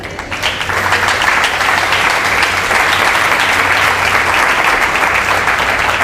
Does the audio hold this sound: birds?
no